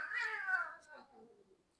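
A cat meows in a drawn-out, wavering cry, loud at first and trailing off into softer mewing, with people talking around it.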